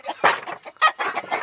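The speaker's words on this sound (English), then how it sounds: "Also, we do have chickens." Chickens cluck in a quick, close burst of short throaty calls, several overlapping notes over about a second and a half.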